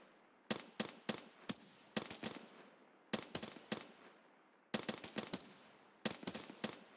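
Bursts of automatic gunfire in Escape from Tarkov, crisp sharp shots fired in quick clusters of three to six with short pauses between, moderately distant and without talk.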